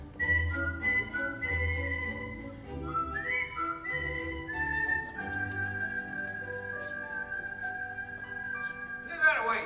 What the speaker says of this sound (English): Oh, was I whistling?